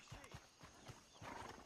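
Horse in a video game moving at a walk with steady clip-clop hoofbeats and a snorting whinny near the end, set against a continuous ambient background.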